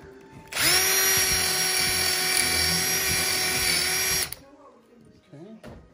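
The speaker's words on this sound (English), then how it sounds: "It's a good drill." A power drill running steadily at high speed while enlarging a hole, loud and close for about four seconds before it stops, followed by faint handling noise and brief soft talk.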